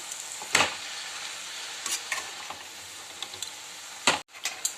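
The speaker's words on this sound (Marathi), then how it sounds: "भाजी परतत जायची आणि टाकत जायची म्हणजे लवकर खाली बसते भाजी" Fenugreek (methi) leaves stir-fried in a pan give a faint, low sizzle broken by a few sharp spatula scrapes and knocks as the greens are turned over.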